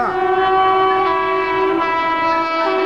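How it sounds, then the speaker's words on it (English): Loud sustained train horns blare from two trains crossing, one the Brindavan Express hauled by electric locomotives, heard from a high-rise balcony, a continuous chord-like tone with rumbling rail noise beneath. "You can hear the horns of both the trains."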